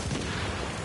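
Grenade explosions in the video game The Division, a dense run of muffled booms and blasts packed into under a second, loud and rumbling.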